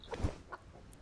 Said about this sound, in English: Let's get this chicken in the coop